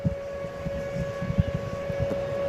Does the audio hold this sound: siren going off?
yes